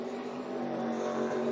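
NASCAR race cars on the wet Charlotte roval, a steady engine drone with a sustained tonal whine, fairly close and continuous through the short stretch.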